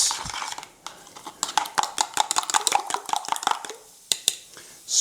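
A spoon stirring a filling mixture in a pan on a Portuguese wood stove, a rapid irregular series of close metallic scrapes and clinks, pausing briefly near the end before resuming.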